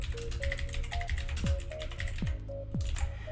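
Quick keystrokes clatter on a computer keyboard while text is typed into a PowerPoint slide, a steady run of soft, close taps with a few heavier key presses.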